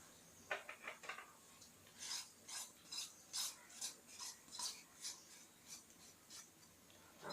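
A spoon stirring fried ingredients into thick unniyappam batter made with Nutrimix, a faint rhythmic series of about a dozen wet scraping strokes against the bowl, close and alone.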